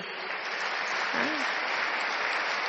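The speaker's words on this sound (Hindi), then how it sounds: "बाकी सभी जोरदार तालियों से" A large spiritual gathering breaks into sustained, dense applause that stays even and continuous throughout, a thick wash of many hands at moderate distance.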